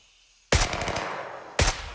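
Two loud, close gunshots in the video game Gray Zone Warfare, each a sharp crack with a booming tail, about a second apart.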